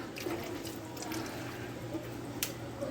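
Water is poured into the water container of a pet bird cage during cleaning, a steady close liquid trickle and splash with a few small drips over about three seconds.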